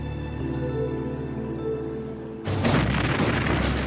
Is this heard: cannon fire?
yes